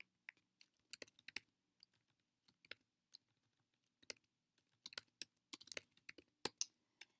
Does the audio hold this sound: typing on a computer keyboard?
yes